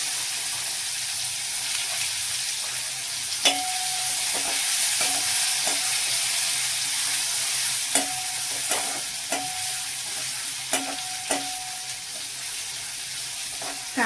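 Onion fries in a pan with turmeric over a low flame, a steady close sizzle broken by a dozen or so sharp clinks and scrapes of a spoon stirring against the metal.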